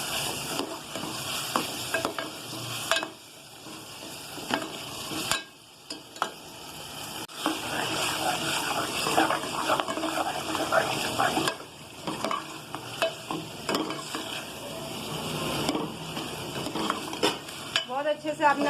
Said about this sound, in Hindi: बहुत अच्छे से आपने भुनाई कर लेनी है, थोड़े से तेज चूल्हे पे